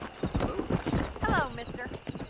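A horse gallops and whinnies in Red Dead Redemption, quick hoofbeats drumming close while a voice talks over them.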